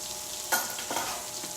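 Hot dogs sizzle and crackle in a frying pan during paleo cooking, a brief close hiss with a couple of soft bursts as they are turned.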